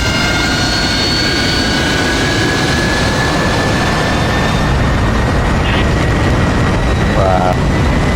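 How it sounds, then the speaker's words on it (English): Jet engines roaring at full throttle in the flight simulator DCS World, a loud, steady, broadband rush that holds without letup, with faint voices now and then underneath. "on 3 we're going to go full throttle and eject"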